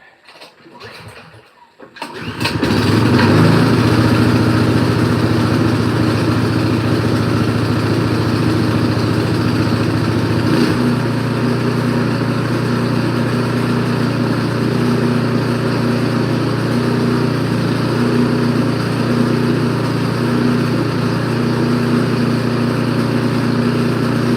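A snow blower built from combined Craftsman and Troy-Bilt parts starts after a short pull and runs loud and close at a steady, droning idle until the end.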